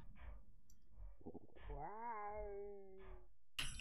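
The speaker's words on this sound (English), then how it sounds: "Who wants some slow motion meowing?" Some low chatter, then a single drawn-out video game cat meow with a slowly falling pitch, stretched and deep in slow motion, followed by a brief clatter.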